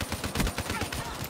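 Rapid, close weapon fire in Call of Duty Black Ops 3 beta gameplay, a dense string of loud shots over about a second with a voice faintly under it.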